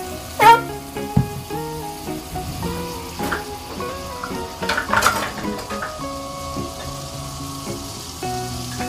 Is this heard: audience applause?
no